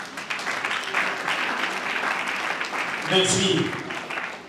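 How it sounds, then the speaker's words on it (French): A congregation applauds loudly at a funeral service, the clapping continuous and close, with a short spoken word near the end. "Moi, je vous demanderai aussi d'applaudir encore très très fort là."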